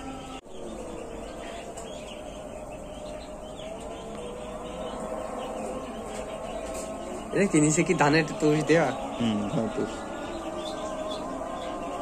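Young chicks chirp faintly in a poultry farm brooder while feeding, thin high peeps scattered under close conversation that dominates the scene.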